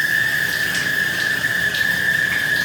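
Hotel shower turned on and letting out a sustained high-pitched squeal, a steady piercing whine that holds unbroken over the hiss of running water.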